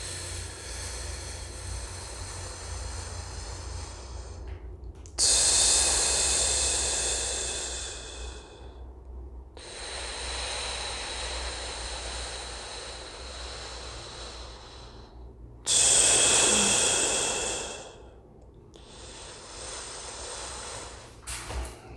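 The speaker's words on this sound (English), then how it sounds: "you can probably just do this breathing and not worry too much about where the tension is." Slow decompression breathing exercise: long steady inhales through the nose alternating with two louder, forceful rushing exhales, repeated in a calm, quiet room.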